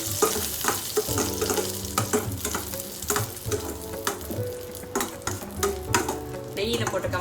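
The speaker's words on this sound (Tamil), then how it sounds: "சூடானோடனே முதல்ல முந்திரி பருப்பு போட்டுக்கோங்க." Cashews fry in ghee in a pan while being stirred, a steady sizzle broken by repeated scraping and stirring clatter, close and fairly loud with no talk.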